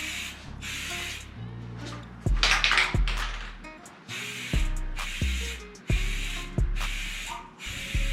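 Aerosol spray can laying even coats of paint on a car, a series of close, steady hissing bursts, each a second or so long, separated by short gaps.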